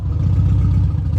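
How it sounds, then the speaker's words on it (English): Close, steady low drone of a 1973 VW Bus engine being revved, a continuous throbbing rumble with faint clatter throughout. "Give it a little bit more of a rev."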